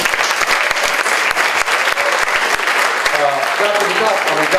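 An audience applauds steadily and loudly throughout at an Elvis Week reunion event in Memphis, with a voice speaking over the clapping toward the end.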